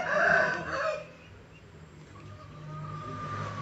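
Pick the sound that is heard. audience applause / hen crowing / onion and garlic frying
hen crowing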